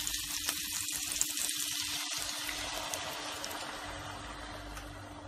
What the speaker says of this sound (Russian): я заливаю их приготовленным томатным соусом